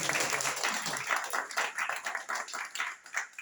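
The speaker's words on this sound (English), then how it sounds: "Can you give him a warm round of applause?" A small audience at a probiotics training meeting gives a soft round of clapping, rhythmic individual claps, fairly quiet and slightly distant.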